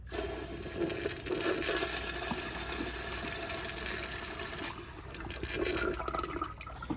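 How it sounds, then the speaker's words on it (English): A 1997 Kohler Dexter urinal flushing under low water pressure, one continuous close rush of water lasting several seconds with a slight swell near the end, no voices. "Here's another flush."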